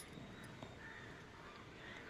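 Crow cawing faintly at a distance, a few harsh calls over a quiet outdoor background with no talk.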